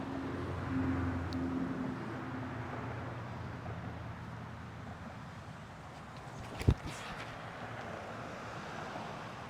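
Steady wind rushes and buffets outdoors on a disc golf course in a low, continuous roar, with a brief sharp thump near the end.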